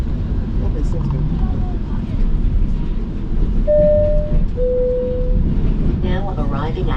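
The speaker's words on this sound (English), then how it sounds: "The train departed Union Station at 1:05 p.m. as scheduled." An express train runs from Toronto's Union Station toward Niagara Falls with a steady, heavy onboard rumble and a brief tonal whine partway through. Voices are faintly heard near the end.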